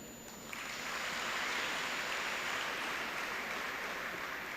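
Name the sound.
audience applause for the teachers at a graduation ceremony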